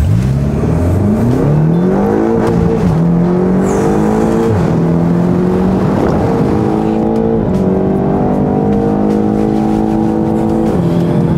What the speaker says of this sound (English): I'm going to try and convey to you just how quick this thing is from first gear, from a launch